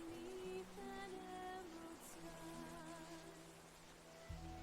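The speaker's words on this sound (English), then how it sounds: "Milu, tell me when the rain finally gets tired." Soft, steady rain falling in a cozy fantasy gnome village, a faint hiss beneath sustained musical tones with no voices.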